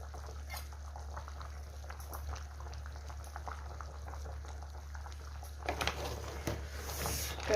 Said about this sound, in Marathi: खेकड्यांना उकळी यायला लागलेली आहे